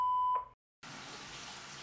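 An answering machine gives one clear, steady beep before recording, then a brief silence followed by a faint hiss of the open line.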